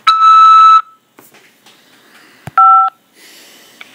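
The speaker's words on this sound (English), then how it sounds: "press 5 to accept this call" Automated telephone keypad tones on a collect call from a corrections facility, with a loud steady DTMF tone at the start and a second short tone near the end, separated by brief clicks and line noise.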